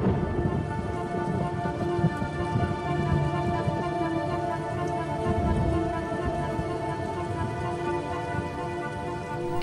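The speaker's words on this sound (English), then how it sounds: "the rains continue to fall in a ceaseless torrent" Heavy rain pours steadily across the African plains during the wet season, a dense continuous hiss with faint low rumbles, loud and unbroken throughout.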